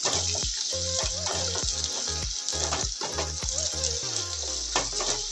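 Onions fry in a pan for poha over a medium flame. A steady, close sizzle runs throughout, broken by repeated clinks and scrapes of stirring, and a few faint low tones sound in the background.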